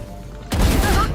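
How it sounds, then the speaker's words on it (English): A flashbang grenade going off in the video game Valorant, a sudden loud burst after a quieter half second that holds as a broad ringing roar to the end. "Flashbangnya kena orang"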